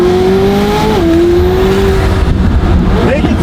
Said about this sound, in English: Driving off into the sunset in the 720 GTR build.